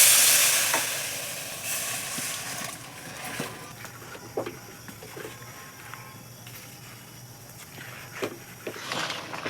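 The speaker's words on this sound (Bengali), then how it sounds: "গ্যাসে একটা কড়াই বসিয়েছি, কড়াইতে দিয়ে দেবো ভিজিয়ে রাখা আমগুলো।" Soaked raw mango pieces fry in a kadai over a gas flame, giving a soft, steady sizzle and hiss broken by occasional light clicks of stirring.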